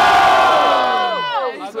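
A crowd at a student rap battle in Guarulhos, São Paulo, roars with loud massed shouts and cheers that swell then quickly die away over under two seconds.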